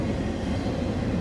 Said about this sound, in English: The train is right above us. We're right by the tracks.